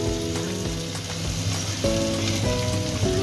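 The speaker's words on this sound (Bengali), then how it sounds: "পেঁয়াজটা হালকা হালকা ভেজে নেব" Onion fries lightly in a pan with a soft, continuous sizzle and crackle, close by and even in level, with faint tonal hum from a background appliance.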